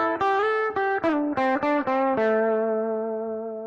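Tel-Strat Esquire electric guitar on its front pickup with the caps and resistors in circuit, playing a short run of about seven plucked notes, then a held final note that rings out and slowly fades, clean and close.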